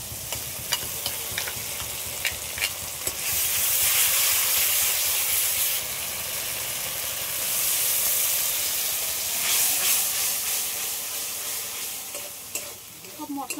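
Ground spice paste with turmeric frying in a pan, heard as a loud, close, hissing sizzle that swells and eases, with rhythmic spoon scrapes and taps at the start and again near the end.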